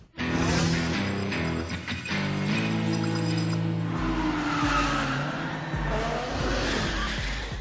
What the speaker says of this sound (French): Le drift, c'est l'art de maîtriser sa voiture en glisse.